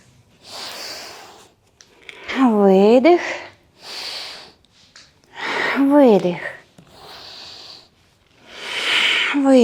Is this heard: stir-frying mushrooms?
no